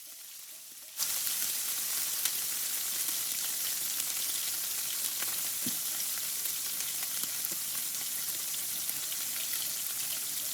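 A sous-vide chuck blade steak, cooked 46 hours, is laid into a hot oiled pan to sear: after a quieter first second, a loud, dense, steady sizzle fills the rest, with no talk.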